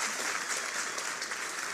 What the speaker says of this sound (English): Let us give another big round of applause to our beloved true mother, Dr. Hak Ja-han Moon